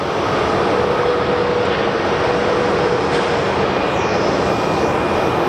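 A Frontier Airbus A321neo airliner in green livery, its broad steady engine roar filling the air loud and unbroken at an airport.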